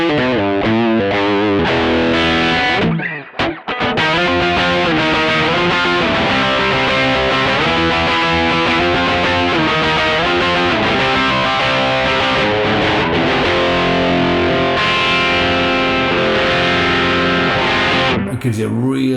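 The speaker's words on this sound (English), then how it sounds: "Gives you a real like creamy, thick overdrive sound" Creamy, thick overdriven electric guitar from a Mosky Mini Screamer pedal, played continuously and loudly with chords and riffs, one brief pause near the start, no talk over it.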